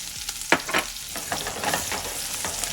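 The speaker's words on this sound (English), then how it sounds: "we got our bacon grease melted all through. I'm gonna add our onions in there" Onions go into melted bacon grease and start frying, with a sharp sizzle and scattered crackles, spatters and stirring scrapes close by.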